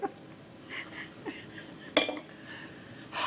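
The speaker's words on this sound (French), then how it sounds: "je fais la vaisselle" Dishes clink and knock sporadically while someone washes up in a kitchen, with a few sharper clatters of crockery and cutlery over quiet room noise.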